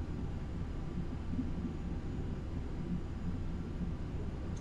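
A light aircraft on an instrument flight fills the cabin with an even, droning engine and airflow roar. The noise is moderately loud and unbroken, with no talk over it.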